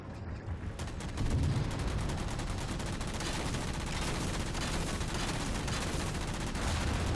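Dense, continuous weapons fire and explosions from a Halo 4 campaign battle with Banshees and fuel rod guns, a loud unbroken barrage with layered blasts throughout.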